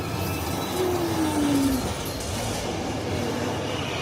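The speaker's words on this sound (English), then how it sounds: "the tram is moving" Backlot tram at Universal Studios Hollywood in motion, a loud continuous rumble of wheels with a brief high squeal sliding downward early on, close and steady with no talk.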